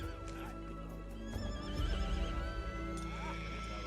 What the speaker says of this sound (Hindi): ठाकुर को एक घोड़ी की दर्द भरी आवाज सुनाई दी।